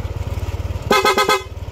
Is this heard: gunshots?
no